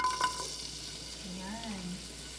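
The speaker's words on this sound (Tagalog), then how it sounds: "Tapos, ia-add na natin yung ating garlic." Garlic frying in hot oil in a pan while spinach is sautéed, a soft steady sizzle with occasional stirring scrapes throughout, close and fairly quiet, with no talking.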